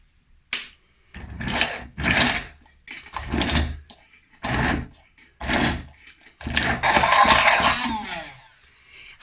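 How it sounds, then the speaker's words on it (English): Bamix stick blender blending dates into a paste, running in about seven short bursts with silent gaps between them, with the last run lasting longest. The whirring motor sounds close and loud. "So I've got my Bamix stick blender, and I'm gonna just blend these into a paste."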